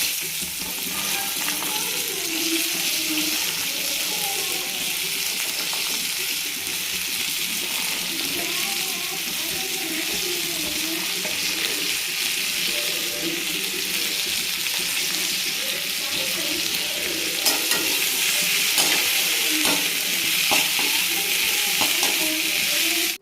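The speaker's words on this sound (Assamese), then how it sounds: "এতিয়া দাংবডি আৰু আলু ভাজিম।" Dangbori and potatoes with onion frying in oil in a wok, a dense, steady hiss and crackle of sizzling that runs unbroken and close throughout, with occasional stirring scrapes.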